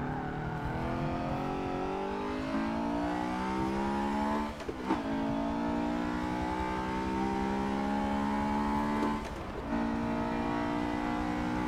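Car engine in Forza Motorsport 7 with manual clutch shifting, revving up steadily and loudly, then dropping sharply at each of two gear changes before climbing again, heard alone and close.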